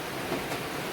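Heavy afternoon rain pouring down outdoors where children are bathing in it, a dense, even hiss with no breaks and no voices, faint and continuous.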